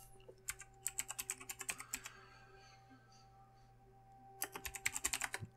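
Computer keyboard keys typed in two quick bursts of clicking, near and clear, with a quiet pause between, set against a steady low hum.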